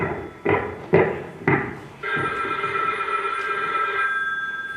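Telephone bell rings out in bursts during a school stage production of Get Smart, three sharp rings then a sustained ringing tone, loud and close with no talk over it.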